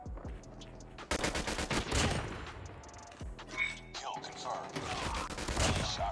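Rapid bursts of automatic rifle fire from the MW11 in Call of Duty Mobile, loud and near, with short pauses between bursts and other battle sounds behind them.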